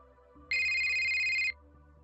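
A compad rings with a synthesized phone ringtone, one bright electronic burst of about a second that rises sharply over a low background hum.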